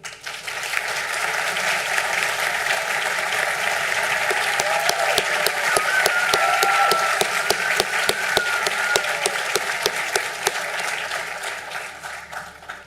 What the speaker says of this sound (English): May I ask all the graduates in the Faculty of Science to stand for a round of applause, please